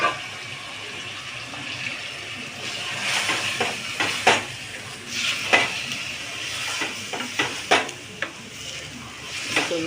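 Washed rice is stirred into a hot spiced tempering in a pan for vaghareli khichdi: a steady sizzle with scraping spoon strokes and scattered clinks against the pan.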